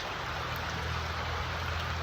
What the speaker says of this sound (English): This is the kind of rain that's going to kick a cycle too.